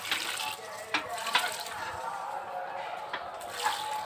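Water is poured into flower pots in a household setting, a soft splashing, gurgling stream with small irregular surges, fairly quiet, with no one speaking.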